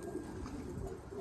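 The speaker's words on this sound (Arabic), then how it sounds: "الحمام نشيطة يا عمي." Pigeons on a rooftop give a steady, low, throaty cooing that runs unbroken through the whole short stretch, moderately close with no talk over it.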